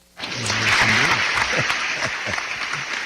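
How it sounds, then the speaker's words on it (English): Audience applause breaks out and holds steady as a dense wash of clapping, with a few voices and low murmurs mixed in near the start. "let's have a round of applause for the kill down"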